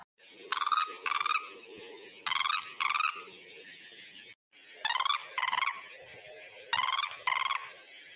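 A telephone ringing in repeated double bursts, electronic and warbling, with short pauses between rings over a faint background hum.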